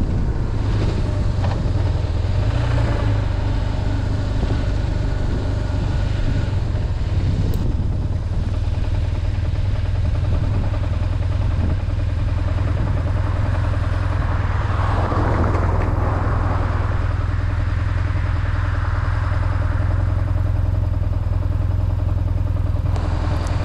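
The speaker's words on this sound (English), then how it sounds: "you just gotta love the mechanical thump of the boxer engine" A BMW boxer-twin motorcycle engine drones steadily throughout, a low mechanical thrum with wind noise, continuous and fairly loud, no voices.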